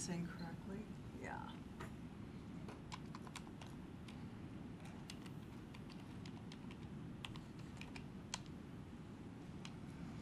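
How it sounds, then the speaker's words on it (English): Rapid clicking of keys typed on a computer keyboard in a city council chamber, irregular taps throughout, close and quiet, with a voice and low room murmur underneath. "I'm assuming that I'm typing this in correctly."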